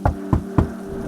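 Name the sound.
knock on a door in an animated story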